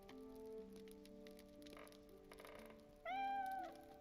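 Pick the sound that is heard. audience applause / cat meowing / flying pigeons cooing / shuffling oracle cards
cat meowing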